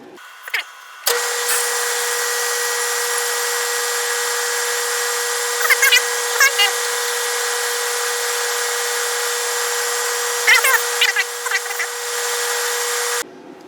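A power drill bores a hole for a retaining bolt in a metal wheel adapter for a tool and cutter grinder, a steady close high whine holding for about twelve seconds with brief pitch wobbles as the bit bites, no talking.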